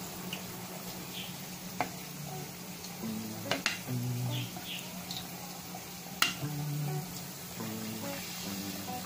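Stuffed tofu deep-frying in plenty of oil sizzles softly in a pan, with occasional clinks and light scraping of a utensil, quiet and nearby.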